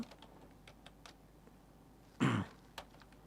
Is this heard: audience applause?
no